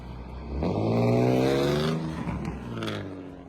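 Nissan 350Z with a stock VQ engine revs once, sweeping up to a loud nearby peak and settling back down, with faint idle before and after.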